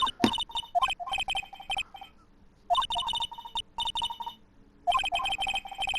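A cell phone in Phoenix Wright: Ace Attorney rings with bright, warbling electronic bursts in three separate groups, each made of rapid pulses, loud and close, with no talking.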